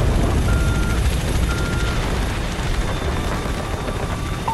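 Helicopters arriving in the Call of Duty: Ghosts mission All or Nothing, a steady, loud low rotor rumble and roar that fills the whole stretch without letup, with no speech over it.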